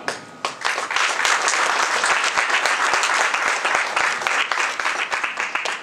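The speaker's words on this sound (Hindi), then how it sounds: "अभी ताली बजाने के लिए कौन बोला?" An audience at a public campaign event claps loudly and continuously, with crisp individual hand claps standing out from a thick wash of clapping that carries steadily to the end.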